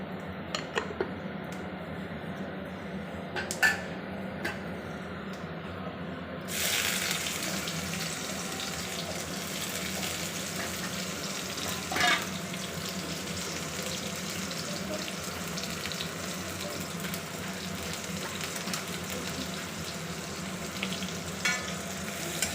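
Panch phoron seeds fry in hot oil in a kerahi for a fish curry with leafy greens, a soft steady sizzle that brightens partway through, with a few faint clicks of stirring nearby.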